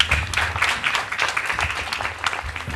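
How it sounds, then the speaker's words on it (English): Applause from an event audience in Delhi, a steady dense wash of many hands clapping at moderate loudness, with some cheering voices mixed in. "a huge round of applause to all of them."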